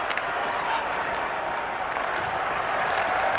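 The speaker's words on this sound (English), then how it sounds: "They're on their feet at the Garden, cheering a big win for the New York Rangers" A packed arena crowd at Madison Square Garden roars and applauds as the New York Rangers close out a hockey win over the Bruins, a dense, steady wall of cheering and clapping with a hockey broadcast commentator voice running beneath it.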